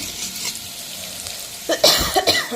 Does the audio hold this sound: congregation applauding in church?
no